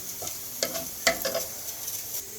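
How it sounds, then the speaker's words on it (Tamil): Fennel, cumin, cinnamon and cloves frying in a pan for mutton kuzhambu, with a steady sizzle and a couple of sharp stirring scrapes near the start, close and with no talk. "சோம்பு, சீரகம், அந்த பட்டை, கிராம்பு எல்லாத்தையும் போட்டு வதக்கிக்கணும்"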